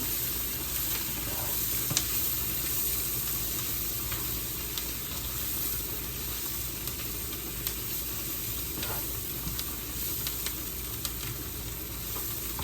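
Sliced mushrooms sautéing with onions in a pan, a steady close sizzle and crackle of frying that holds throughout with faint stirring, no talk.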